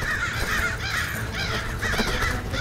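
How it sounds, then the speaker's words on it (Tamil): Crows caw repeatedly inside a palace, several harsh, rasping calls in quick succession, fairly close and loud, with no talking. "இந்த காக்காவெல்லாம் வெளியில விரட்டு"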